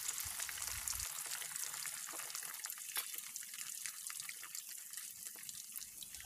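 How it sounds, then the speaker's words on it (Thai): Chicken skin frying in oil over medium-high heat, sizzling and crackling steadily in a pan, with bright popping bursts throughout and a brief low rumble at the start. "เดี๋ยวเราจะทอดหนังไก่ไปเรื่อยๆด้วยไฟกลางค่อนแรงนะคะ"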